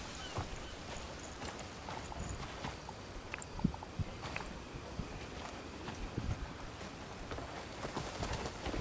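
Horse hooves clip-clopping in the inZOI video game, a steady run of light, fairly faint hoof knocks over soft background noise.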